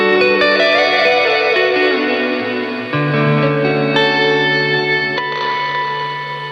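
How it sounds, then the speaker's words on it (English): Guitar notes through an Earthquaker Devices Afterneath V3 pedal set to a classic plate reverb at toe-up position, loud and lush with long smooth tails as chords change a few times. "it's more of like a classic plate reverb."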